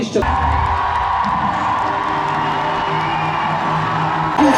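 Large crowd cheering and shouting steadily at a night half marathon in Wrocław, a dense, loud roar of voices with whoops sustained throughout, swelling again at the end.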